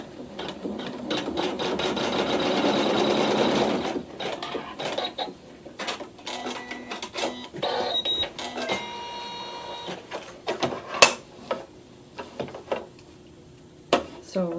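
Sewing machine running a tack-down stitch along a row of fabric scallops, a steady close whir for about four seconds, then stopping, followed by scattered clicks and handling noises.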